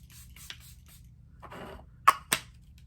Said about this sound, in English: I'm going to use the Charlotte Tilbury Airbrush Flawless Setting Spray.